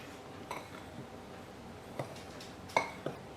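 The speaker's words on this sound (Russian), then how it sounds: "Все хорошо перемешиваю." A spoon stirs dry pancake ingredients (flour, sugar, baking powder) in a bowl, giving a few sparse clinks and scrapes against the bowl rim, fairly quiet, with no talking.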